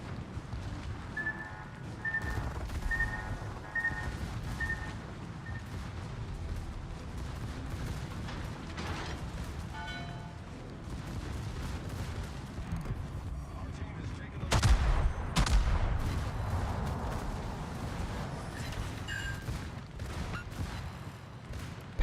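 Warship gunfire in the World of Warships video game, booming salvos and rumbling explosions over a low, steady battle drone, with a loud cluster of blasts partway through and faint repeated beeping tones.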